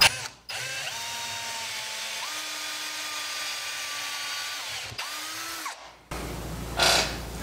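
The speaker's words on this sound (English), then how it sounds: "I'm going to drill that outside of there so I don't fill it full of shavings" Power drill whining steadily as it bores into a birch burl and resin bowl blank for woodturning, with pitch shifts under load, a brief stop and restart, then the motor spinning down.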